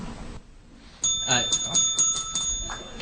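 At a debate, a bell rings to end a speaker's time, giving a rapid series of bright metallic dings about two seconds long, right after a brief stretch of talk.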